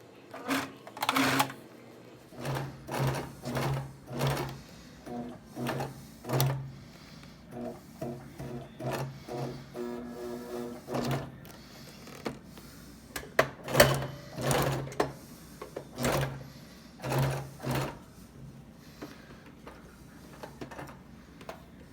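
A sewing machine stitches an upholstery pocket for a 1971 Volkswagen Beetle, running in short bursts of rapid mechanical chatter separated by pauses, close and clear with no speech.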